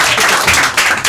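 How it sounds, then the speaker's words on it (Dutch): Warm audience applause for a poet at a poetry evening, a brief, dense burst of many hands clapping with uneven swells, heard alone and fairly close. "Mag ik een warm applaus voor de man uit Haarlem, Wanja Sien van Egmond."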